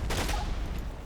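Gunfire in the wargame Combat Mission: Black Sea, a short dense burst of overlapping shots with a sharp crack near the start, loud and close.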